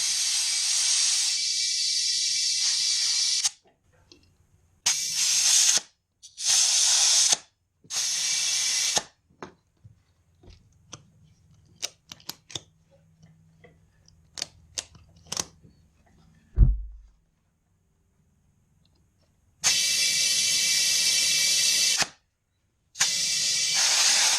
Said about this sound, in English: And then you just try to give it a little bit of air and hopefully it'll seat